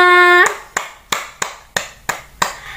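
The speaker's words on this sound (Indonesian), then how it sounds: "tepuk tangan untuk semuanya" In a classroom, a short tone cuts off into several evenly spaced claps, sharp and close, repeating about every third of a second, sounding like a small group clapping in time.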